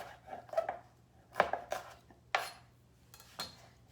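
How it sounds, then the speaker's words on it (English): Knife chopping two bell peppers on a cutting board, a handful of sharp, close knocks in an uneven rhythm with quiet pauses between, alone without talk. "So here I've got 2 peppers I'm cutting."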